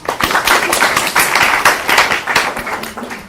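A classroom of students claps for a classmate. The clapping comes in a close, loud, thick burst that runs throughout, with no voices on top.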